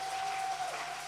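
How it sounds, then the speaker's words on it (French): Church congregation at a prayer gathering applauding and cheering, a brief continuous wash of clapping and crowd noise with a steady tone running through it. "Est-ce que tu peux donner tes acclamations?"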